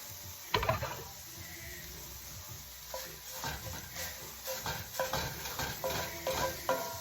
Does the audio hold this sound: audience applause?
no